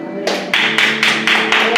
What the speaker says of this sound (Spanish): Vamos a dar un aplauso a Dios.